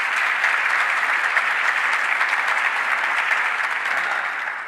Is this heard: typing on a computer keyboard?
no